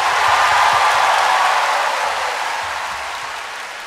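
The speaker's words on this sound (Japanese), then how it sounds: "大きな拍手を" A concert audience at the Kamen Rider 10th Anniversary Live gives big applause, a loud, dense wash of clapping that fades gradually toward the end, with no voices over it.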